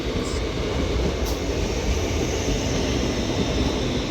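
A Class 805 Avanti West Coast train sits at London Euston, giving a steady, loud, broadband rumble and hum that stays constant throughout with no clear changes.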